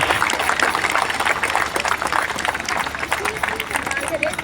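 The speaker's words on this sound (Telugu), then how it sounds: "గట్టిగా చప్పట్లు కొడదాం." A church congregation claps loudly together, a dense, steady wash of many hands sustained throughout with crowd murmur beneath.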